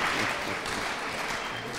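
Applause from a classroom audience at a Kiswahili arts session in a mixed secondary school, cheering a girl student; steady, dense clapping that fills the short moment at an even level.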